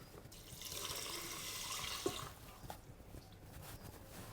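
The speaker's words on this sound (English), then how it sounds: "Now we'll add in our water using the same cup that you measure your rice with" Water pours steadily into a rice cooker pot holding rice, a soft splashing rush that tapers off, followed by a few light drips and clinks.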